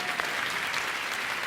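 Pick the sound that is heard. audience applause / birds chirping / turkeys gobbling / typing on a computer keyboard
audience applause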